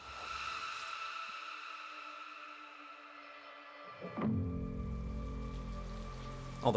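Soft steady rain patter with a faint tonal hum, then a louder swell of noise near the end.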